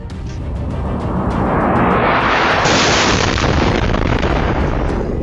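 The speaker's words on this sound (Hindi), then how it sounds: "अलेप्पो शहर को विद्रोही गुटों से छुड़ाने के लिए रूस ने ताबड़तोड़ अलेप्पो शहर पर एयर स्ट्राइक की।" Loud explosions from a Russian air strike on northern Aleppo countryside, Syria, a sustained roaring blast rumble swelling and continuing for several seconds, close and heavy, with no voices.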